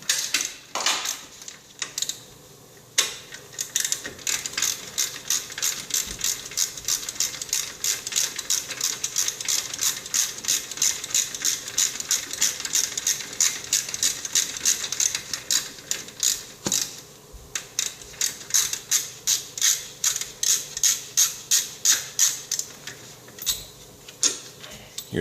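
Rapid ratcheting of a wrench loosening the rear caliper bolts on a 2000 Jeep Grand Cherokee Limited WJ, a steady close clicking run for most of the stretch that breaks into slower separate bursts near the end.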